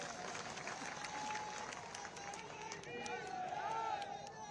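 A crowd at an election rally for a state assembly candidate claps and cheers in a steady, dense roar, with voices and a few whistles mixed into the noise throughout.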